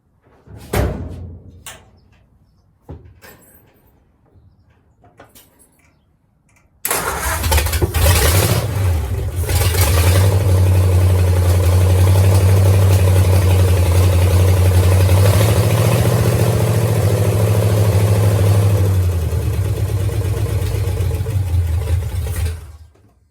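A 1932 Ford flathead engine cranks over on its 6-volt starter and catches, settling into a loud, steady, close idle that runs for about fifteen seconds before shutting off, after a few sharp knocks and clunks beforehand.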